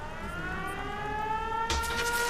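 A settlement siren in the Fallout 4 video game wails as a steady, rising multi-tone drone that is loud and continuous, with a burst of broadband noise near the end.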